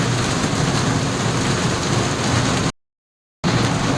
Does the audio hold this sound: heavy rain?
yes